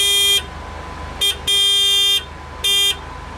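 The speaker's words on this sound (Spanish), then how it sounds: "Y por si os preguntáis cómo suena el claxon de un Ariel Atom," An Ariel Atom sports car horn honks three times, loud and close: a short blast, a longer sustained one, then another short toot, with quiet engine rumble between.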